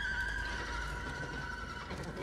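Horses in a film give a loud, drawn-out whinny near the start that trails off over rumbling background noise, with faint movement sounds following.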